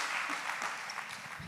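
A church congregation claps in a dense, steady burst of applause that stays fairly faint and distant throughout.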